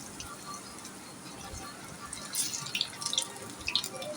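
A second batch of mixed-vegetable pakora batter goes into a pan of hot oil, giving a low steady background with a burst of crisp crackling and sizzling spatters toward the end.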